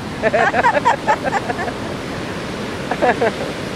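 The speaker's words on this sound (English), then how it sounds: "I was taking pictures of the waves, and one hit me." Ocean waves on a beach make a steady broad roar of surf, with brief bursts of voices over it near the start and again near the end.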